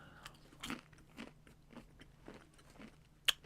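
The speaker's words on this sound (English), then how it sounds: "Can you hear the crunch?" Chicken being bitten and chewed up close, with a series of soft crunching bites at an irregular rhythm and a sharper crisp crunch near the end, with no talk.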